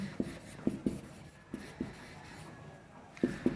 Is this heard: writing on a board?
yes